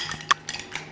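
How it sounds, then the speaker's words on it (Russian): Two eggs whisked in a bowl for homemade Tatar noodle dough, giving a few quick, light clinks of utensil against the bowl in a short burst. "Яйца взбили."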